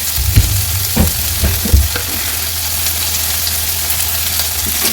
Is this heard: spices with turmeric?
yes